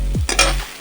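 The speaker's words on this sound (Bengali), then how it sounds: "মশলাটা ভালো করে কষিয়ে নিচ্ছি, কড়াইয়ের মধ্যে আর লেগে যাচ্ছে আমার মশলাটা।" Spice paste sizzling in a wok and sticking as it is stirred, one short scrape of the spatula followed by a loud burst of hissing that fades quickly.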